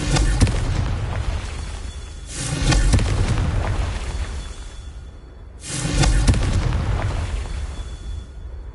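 Two heavy, roaring blasts from the Confringo explosion spell in Hogwarts Legacy, each bursting loudly and rumbling off over several seconds, set against a constant low background din.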